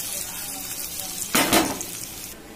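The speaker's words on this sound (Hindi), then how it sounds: "ड्राई फ्रूट तड़क गए हैं" Dry fruits and raisins crackle in hot ghee for a kheer tadka, a broadband sizzle that swells sharply near the middle of the clip, then eases back to a steady low fry.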